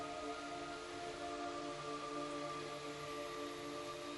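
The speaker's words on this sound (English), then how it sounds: "It's raining blood." Steady hiss of blood rain pouring down in Metal Gear Solid 3, a constant even wash with faint tonal game ambience underneath and no voices.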